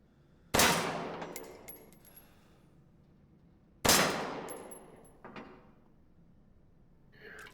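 Two loud shotgun blasts a few seconds apart, each with a sharp attack and a decaying tail, fired at a target in Resident Evil Village VR, with faint mechanical clicks and clanks of reloading between and after the shots.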